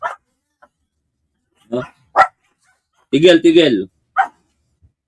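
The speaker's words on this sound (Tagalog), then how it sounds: "ang ingay nito mga aso" Dogs bark in a few short, sharp bursts spread across the clip, fairly close and loud, with someone talking briefly between them.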